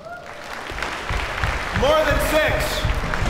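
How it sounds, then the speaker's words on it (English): Tech conference audience at a grand opening applauding, a swelling wash of clapping from a large crowd under someone talking over a PA, with a few whoops rising above the claps. "Give me an applaud for more than 5."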